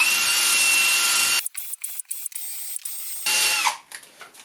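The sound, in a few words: buffing wheel on power tool polishing car dash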